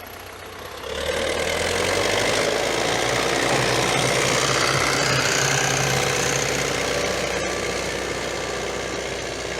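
A YuMZ-6 tractor engine pulling a PLN 2-35 plough through spring soil starts up after a quiet second, then runs loud and steady with a knocking, throbbing drone that continues to the end.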